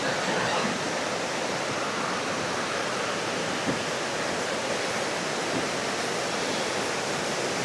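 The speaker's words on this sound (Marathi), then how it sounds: "पाण्याचा फोर्स तर खूप आहे." Strong, fast-flowing river water at the Kundamala crossing near Pune, a steady dense roar of rushing current that stays loud and unbroken throughout, with no talking.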